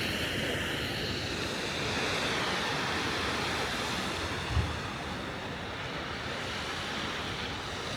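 Ocean surf rolls against rocky cliffs above the tide pools at Point Loma, California, a steady broad wash of waves with wind noise and one brief low thump near the middle.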